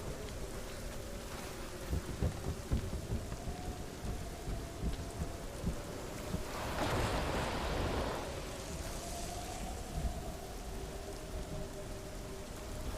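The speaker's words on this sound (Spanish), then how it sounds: "Quiero ver cómo rompen las olas" Waves breaking on a shore in Hellblade: Senua's Sacrifice, a constant hissing wash that swells into one loud surging crash midway and then settles back.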